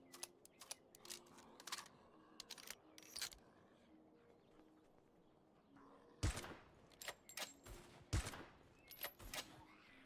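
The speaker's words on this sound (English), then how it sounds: "The gunfire you can hear. There's like a bandit base there." Gunfire echoing from a distant bandit base in a video game on nightmare difficulty: scattered bursts of faint cracks and pops with quiet gaps between them, a couple of louder shots near the end.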